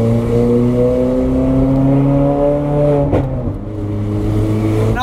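Ferrari 430 Scuderia exhaust with its valves open, a loud, close engine note climbing steadily under acceleration, dipping sharply for a shift around the three-second mark, then pulling strongly again.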